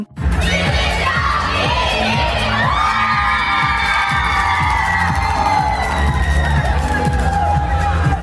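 A large crowd cheers and shouts in a sustained roar over loud rhythmic music at a school first-place celebration, with no break in the noise.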